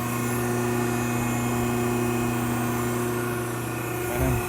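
The main motor of a Betenbender 6-50 press brake runs with a steady, droning electric hum that holds constant, ending with a brief soft thump, and no one speaks.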